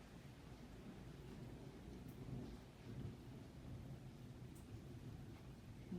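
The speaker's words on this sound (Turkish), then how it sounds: "Gök gürültüsü, şimşek ve yağmur var." Thunder rumbles low and steady through a heavy thunderstorm, with rain falling continuously and strongly, a dense even wash of sound with a few swelling peaks and no voices.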